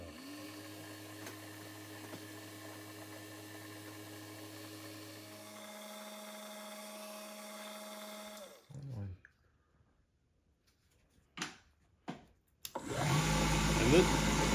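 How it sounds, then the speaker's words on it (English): A machine-shop drill running with a number 44 tap drill for 4-40 tapped holes in an exhaust valve rocker arm part for a hit-and-miss engine. A steady whine holds for about eight seconds, then stops, followed by a few short knocks and a louder rushing burst. "I got to put a number 44 tap drill in."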